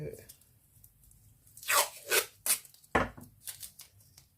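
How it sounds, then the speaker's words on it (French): Several short rasping bursts of masking tape being pulled and torn from a roll, close up, with quiet pauses between them. "du scotch de masquage,"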